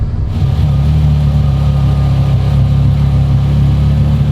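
A car engine idling just after starting, a loud, steady low rumble that holds even throughout, close and without speech.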